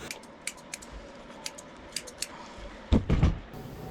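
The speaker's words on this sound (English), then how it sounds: "when I come around to the trimming under the beard, I switch to my straight scissors" Grooming scissors snip through a Doodle's beard hair in quick, crisp clicks, a light steady series of close snips followed by a louder cluster of rustling cuts near the end.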